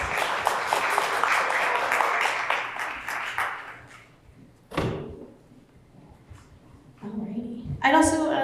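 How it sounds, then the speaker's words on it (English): Audience applause at a chamber of commerce luncheon, a few seconds of moderate clapping from a seated crowd that fades out, followed by thumps and a voice starting to speak. "Round of applause if you would."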